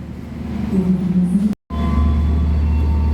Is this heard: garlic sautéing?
no